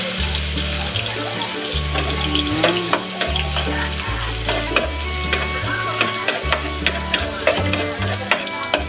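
Onions sautéing in hot oil in a pan for sarsiado galunggong, a steady sizzle with water-like hiss over a repeating low musical background, no talk.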